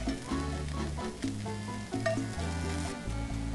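Mushrooms frying and browning in bacon grease in a pan, a loud, steady close sizzle with faint stirring and a low rhythmic hum beneath.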